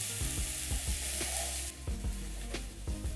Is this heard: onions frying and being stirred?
yes